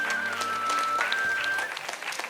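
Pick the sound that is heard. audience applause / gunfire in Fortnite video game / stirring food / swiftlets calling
audience applause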